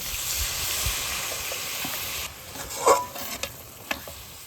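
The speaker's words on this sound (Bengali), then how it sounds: "এইবার আমি একটু জল দিয়ে দিচ্ছি হালকা।" A splash of water hits hot mustard, ginger and chilli paste cooking with cauliflower stems in a pan, giving a loud, close sizzling hiss that fades after a couple of seconds, followed by a few light scrapes and clinks.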